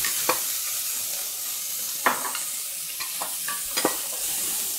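Onion stirred into a hot frying pan with pigeon peas, a steady close sizzle broken by several sharp scraping clicks of the utensil against the pan, no talking.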